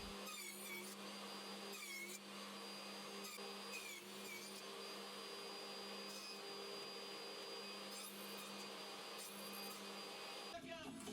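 A table saw takes repeated passes to cut tenons for a beech slab coffee table frame, a steady loud mechanical whine running almost the whole time before cutting off near the end.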